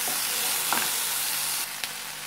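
Gooseberries and tomatoes sautéing in a pan, a dense close sizzle with a few light stirring knocks, no voices.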